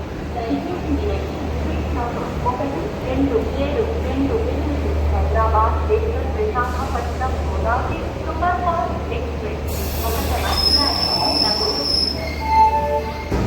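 The 58506 Visakhapatnam–Gunupur fast passenger train rolls along with a constant rumble while people talk; high-pitched wheel squeals cut in toward the end.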